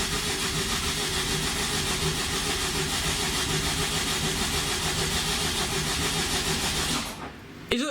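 A five-cylinder engine is primed and cranked over, a loud, steady mechanical churn running close up for about seven seconds before cutting off abruptly.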